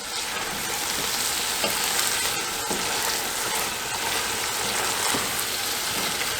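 Green peppers sizzle steadily in a hot pan while being stirred, a continuous close frying hiss with occasional scraping of the utensil, no voices.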